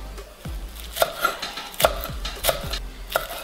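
A good bunch of parsley is chopped with a knife on a board, four or five crisp, evenly spaced chops standing out clearly over a quiet kitchen background.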